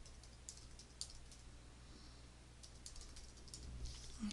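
Quiet, steady typing on a computer keyboard, with soft rapid key taps running throughout and no talking.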